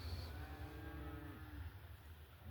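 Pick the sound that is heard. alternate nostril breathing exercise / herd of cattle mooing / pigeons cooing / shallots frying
herd of cattle mooing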